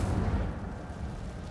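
Incendio fire spell cast in Hogwarts Legacy, a loud, dense burst of low rumbling flame that erupts at once and roars steadily for the whole short moment, with no voices.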